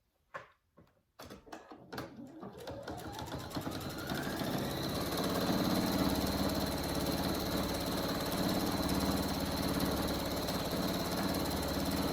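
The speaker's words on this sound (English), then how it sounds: "And then go ahead and sew this piece together." A sewing machine stitches fabric pieces for a hanging honeycomb animal hammock. A few sharp knocks come first, then the motor speeds up into a steady, continuous whirring run that lasts to the end.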